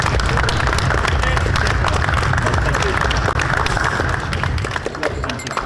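Applause from an audience at a lightsaber fencing tournament, a dense, steady wash of clapping that holds at full strength for several seconds before thinning slightly near the end, with crowd murmur mixed in.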